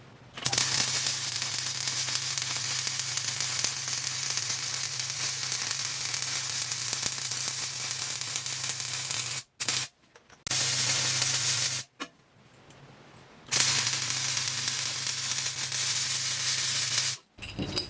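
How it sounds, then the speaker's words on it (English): An arc welder lays beads joining steel flat bar into an anvil stand. The crackling hiss runs loud and steady for long stretches, broken by short pauses between passes. "I'm going to go ahead and weld this out."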